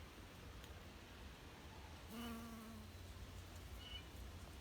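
A single bee buzzes near flowers outdoors, a faint close drone that rises briefly into a clearer hum midway, then settles back under a steady soft background hiss.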